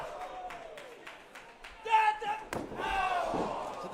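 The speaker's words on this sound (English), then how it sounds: "To the chest this time, delivering the kick." A hard wrestling kick to the chest lands with a sharp slap in an arena, followed by thuds and crowd reaction under commentary.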